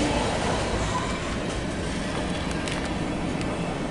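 A CSX mixed freight train rolls past with a steady, dense rumble and rail noise, loud and continuous throughout, with faint voices underneath.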